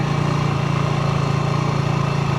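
A motorcycle engine runs steadily in first gear while the bike moves off, a loud, close, even drone with a fast regular pulse and no voices.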